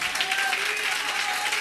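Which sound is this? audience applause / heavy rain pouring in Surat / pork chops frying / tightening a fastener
audience applause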